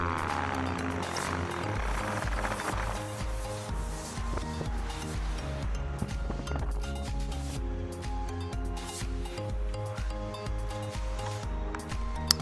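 A paramotor's propeller engine drones steadily overhead with a pulsing, buzzing tone as it swings around to land near Morro Bay, loud and continuous, with wind noise mixed in.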